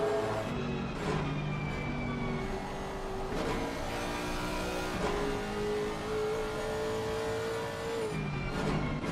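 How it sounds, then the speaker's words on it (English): A race car's engine holds fairly steady, high revs through a corner at Kyalami circuit, producing a loud, continuous, droning whine with subtle pitch shifts and no voices over it. "through that last corner, you could hear how he wasn't really changing his engine revs"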